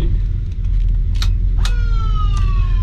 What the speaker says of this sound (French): Et là, Ça, c'est la sirène.